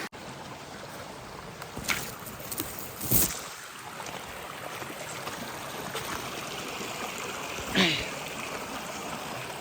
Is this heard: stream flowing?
yes